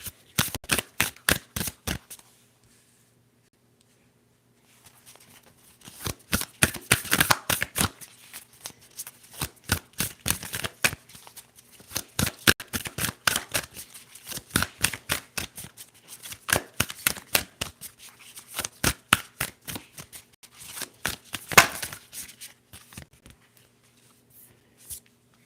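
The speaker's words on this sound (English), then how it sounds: "Okay, let's shuffle." Tarot cards are riffled and shuffled in repeated crisp bursts of rapid flicking, close and soft, separated by brief pauses of quiet.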